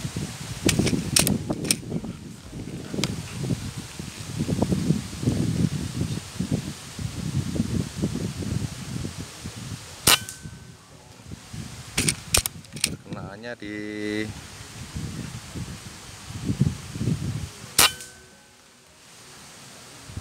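Sharp, loud cracks of an air rifle ring out one at a time with pauses between, over a murmur of voices and outdoor rustling.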